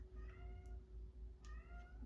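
A house cat meows twice indoors, each call a short, clear, rising-and-falling cry, faint against a quiet room hum with a pause between them.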